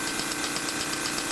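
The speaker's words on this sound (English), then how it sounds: "beam type engine, overhead beam" A small model overhead beam type engine running steadily, a continuous close mechanical hum with a faint regular ticking pulse throughout.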